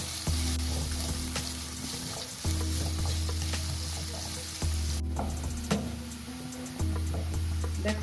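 Small potato pieces fry in oil with a continuous close sizzle, broken by periodic stirring scrapes roughly every two seconds.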